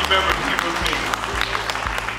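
An audience at an honorary firefighter ceremony claps steadily in a dense wash, with a voice and low thumps running underneath.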